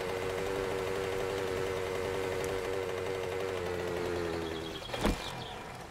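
Minibike engine in the survival game 7 Days to Die, a faint steady buzzing drone holding an even pitch throughout, dipping slightly near the end with a brief bump, no talking.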